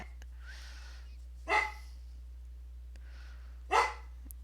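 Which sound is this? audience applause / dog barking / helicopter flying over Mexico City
dog barking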